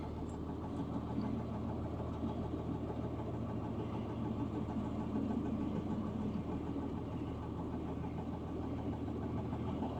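A farm tractor idles steadily while a planter's hydraulic cylinders raise, producing a constant mid-pitched diesel drone with slight knocking vibration and no talk over it.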